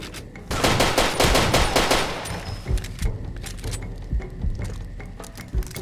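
Rapid automatic gunfire rattles in the Far Cry 2 shooter, a dense loud burst of shots for about two seconds, then scattered single and paired gunshots through the rest.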